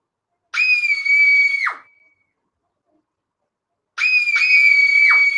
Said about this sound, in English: Ooh, lots of screaming.